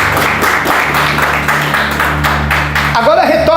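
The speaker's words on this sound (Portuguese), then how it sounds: "palmas para ele." A church congregation claps along during a sermon, with steady rhythmic claps over a low droning hum and a voice entering near the end.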